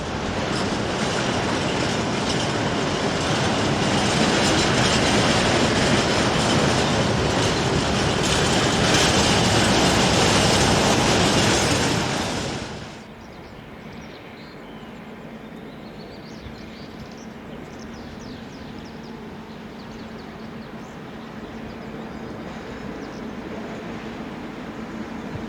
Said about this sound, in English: Freight liveried diesel 67534 trundles a rake of empty grain hoppers out of the departure sidings and prepares to head for the